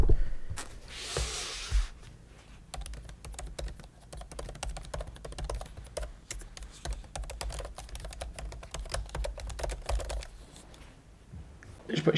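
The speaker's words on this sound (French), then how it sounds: "pour ceux qui tripent sur les sons de clavier" Typing on the keyboard of a MacBook Pro M1 Max: rapid, continuous light key clicks at close range, steady and crisp for several seconds with brief pauses near the start and end.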